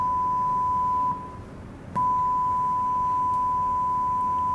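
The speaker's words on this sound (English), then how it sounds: "this is a 1 kHz tone playing through the speaker" A steady 1 kHz sine test tone plays from a speaker driven by a Class D amplifier chip on battery power, continuous and clear, with a brief dip and a small click midway.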